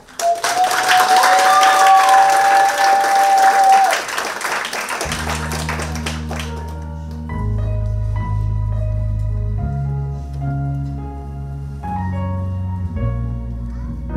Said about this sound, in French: Mesdames et messieurs, veuillez applaudir, s'il vous plaît, Clifford.